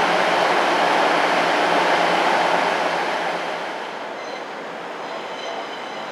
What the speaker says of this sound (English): today I'm taking the train to Portsmouth Harbour to visit the Royal Naval Dockyard